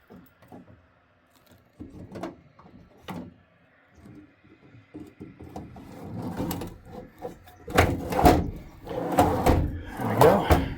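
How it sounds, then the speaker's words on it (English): A wooden drawer slides back into a cabinet during vehicle interior removal work, with a few scraping, knocking thuds that grow louder and denser toward the end, close by and with no talk over them. "let me put this drawer back in"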